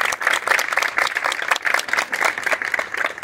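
An audience claps together in a steady, lively round of applause, the clapping fairly close and even with no speech.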